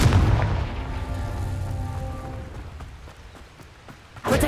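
In the Hogwarts Legacy game, a Confringo blast spell explodes with a booming burst that decays into a fading rumble and crackle, followed by another sharp hit near the end.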